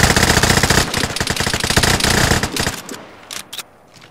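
Gunfire in the video game Vigor, a loud, rapid burst of automatic fire rattling nonstop for nearly three seconds, then breaking off into a few scattered, quieter shots.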